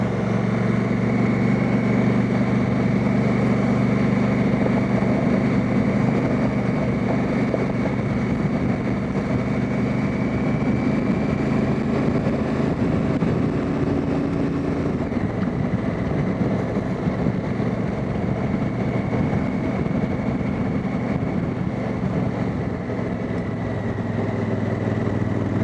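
A Honda Africa Twin motorcycle engine chugging along in third gear on a bush road, a steady loud low rumble with constant wind noise throughout.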